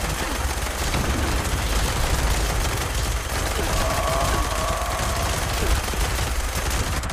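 Dense automatic gunfire in a shooter video game, loud continuous rattling bursts with explosive booms mixed in, sustained for the full stretch with no pauses.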